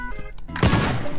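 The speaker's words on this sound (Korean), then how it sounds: "샷건." A single heavy shotgun blast in the demolition game Teardown, a sharp, close, booming thump followed by a rumbling tail of impact and debris, standing alone.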